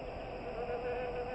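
Wasps in a film buzzing in a thin, steady drone that stays quiet and continuous throughout, with no voices over it.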